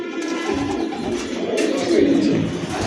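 Pigeons coo continuously at a crowded pigeon market in Dhaka, a dense blend of low murmuring calls from many birds filling the short stretch with no pauses.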